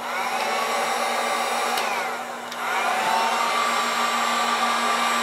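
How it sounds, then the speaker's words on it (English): A heat gun blows hot air over alcohol ink on a handmade wooden hollow form, a steady loud whooshing hum that dips briefly as it is moved, then resumes, with no talking. "I'm going to go ahead and put a little heat to it."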